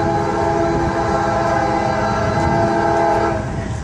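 CSX freight train passing a level crossing during rush hour, its horn blaring loud and steady throughout, with rumbling rail noise beneath and no talk.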